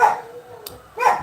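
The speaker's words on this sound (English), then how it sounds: "So if you hear Chocolate bark anytime" A household dog gives two sharp barks about a second apart, close by, with a faint whine trailing between them.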